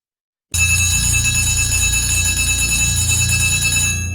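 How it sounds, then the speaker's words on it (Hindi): A school bell rings continuously and loudly after a brief silence, its steady metallic tone sustained for several seconds as an eerie cue in a horror story. "घंटी फिर बजने लगी"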